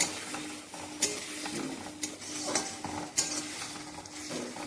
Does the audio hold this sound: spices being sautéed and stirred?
yes